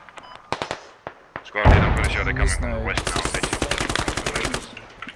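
Bursts of automatic gunfire in the military shooter game Squad, starting as sparse sharp shots, then a loud close stretch of rapid repeated firing with booming impacts and a voice talking underneath.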